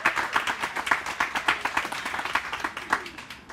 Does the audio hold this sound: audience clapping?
yes